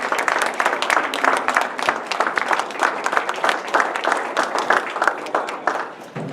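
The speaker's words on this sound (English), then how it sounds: "that was a great round of applause" A crowd at a Hawaii lieutenant governor candidate forum claps in sustained, dense applause that stays loud throughout and fades slightly at the very end.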